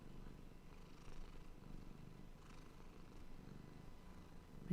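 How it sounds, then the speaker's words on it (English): A cat purrs steadily and softly up close, a low continuous rumble rising and falling with each breath, with no voices over it. "Do you hear this cat?"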